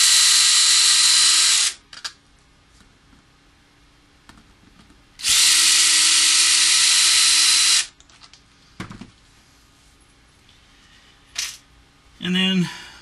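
Power drill backing screws out of an electric guitar's pickguard and pickups, two loud sustained whirring bursts of about two seconds each, separated by quiet handling clicks and knocks, with a brief voice near the end.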